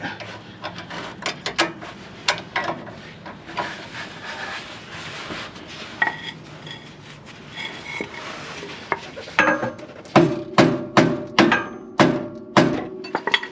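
A Fox steering stabilizer on a Super C RV is hammered and levered into place, with irregular knocks early on, then a run of about seven loud, evenly spaced metallic blows near the end.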